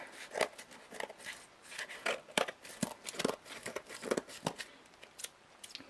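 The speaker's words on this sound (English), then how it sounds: "I'm going to go ahead and trim up the spots that actually need trimming up with my trusty pair of scissors." Recycled-plastic scissors trimming material for a desktop four-compartment caddy, heard as a run of close, crisp snips and crinkly cuts in an irregular rhythm, with no talking.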